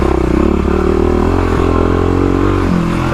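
A Stage 3 Kawasaki KLX351 dirt bike lugging up a hill on off-road trails, a loud, continuous engine drone with a slightly wavering pitch, plus rattles and clatter from the bike over rough ground.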